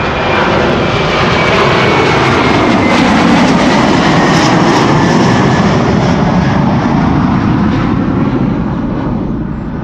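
A Delta Air Lines Airbus A330-300 bound for Detroit takes off from runway 24 at Amsterdam Schiphol, its jet engines roaring loud and close in a broad, sustained rumble that swells and then slowly fades.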